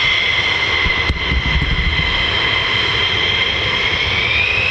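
A US Air Force F-15 or F-35 fighter jet taxiing across the runway at RAF Lakenheath, a steady loud engine roar with high whine, continuous and close with no one talking.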